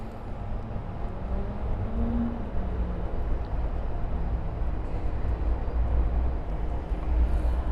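Jet airliner taxiing toward runway 26 right at Miami airport: a steady broadband engine roar with a low rumble, continuous and even throughout, heard from a moderate distance with no talking.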